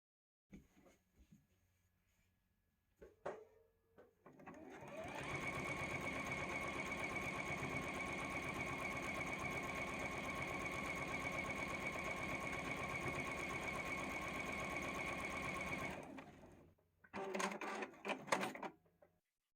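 A sewing machine stitches a potato chip quilt-as-you-go block in one long continuous whirring run of about eleven seconds, preceded and followed by brief handling clicks and rustles, with no talking.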